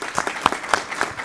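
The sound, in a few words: audience applause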